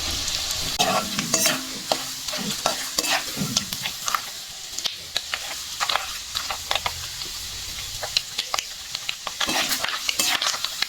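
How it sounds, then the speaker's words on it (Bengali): Chopped dried coconut fried and stirred in a pan while making dal chanachur, with steady sizzling and repeated scraping and clinking stirs close by throughout, no talking. "শুকনো নারিকেল, ওইটা একটু ভাজি না।"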